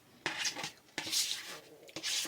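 Metal spoons clink and scrape against dishes in a few separate bursts, close and moderately loud, with short quiet gaps between.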